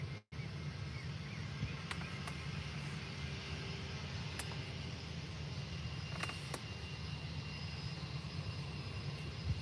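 A Ryanair airliner from Nottingham at Faro airport gives a steady, fairly faint low engine rumble throughout, with no voices.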